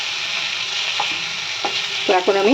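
Bhangor fish sautéing in oil for a curry, a steady bright hiss of frying with scraping stirs near the end, while a voice speaks briefly over it.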